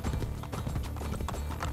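Horse hooves clip-clopping in the video game Assassin's Creed Brotherhood, a steady quick rhythm of hoofbeats as a horse rides along, loud and continuous amid game ambience.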